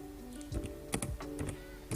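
Brief, quiet keystrokes on a computer keyboard, a few irregular clicks over a faint background hum, with no one talking.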